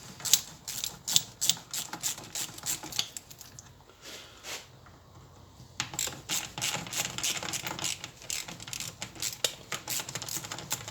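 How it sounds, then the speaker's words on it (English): Bolts being undone on a truck air dryer chamber with a ratchet, bursts of rapid metallic clicking close to the microphone, broken by a short quieter pause before the clicking resumes. "Now as you start to undo these 2 screws"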